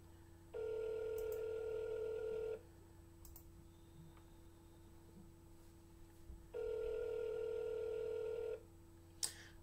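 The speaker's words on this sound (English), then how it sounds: "I'm trying to call it from Sam's phone" Telephone tones from a phone call being placed: two sustained electronic tone bursts, each about two seconds long, separated by a quiet gap, fairly faint, with a small click at the end and no voices.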